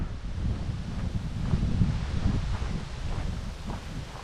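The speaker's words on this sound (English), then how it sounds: "Quite windy today" Steady wind roars and buffets the microphone in continuous gusts, with a faint rustle of leaves underneath and no voices.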